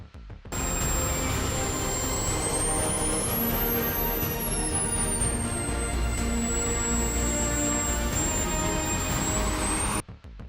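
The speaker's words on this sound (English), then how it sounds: "Powered by a PBS turbojet engine, it can exceed 200 miles per hour despite its compact size." A Subsonex miniature jet aircraft with a PBS turbojet engine runs loud and steady, with a high turbine whine that swells and dips in pitch over the constant engine roar.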